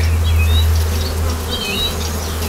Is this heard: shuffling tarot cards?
no